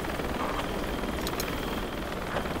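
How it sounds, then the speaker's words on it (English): A helicopter close by during an airsoft operation gives off a steady, loud rotor and engine drone that fills the whole stretch without letup, with no voices over it. "There is a helicopter here."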